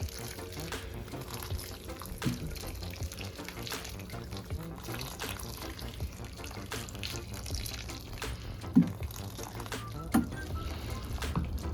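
Water pours steadily into the soil of a potted wax jambu fruit tree, a faint wet splashing spread over several seconds under a low background hum.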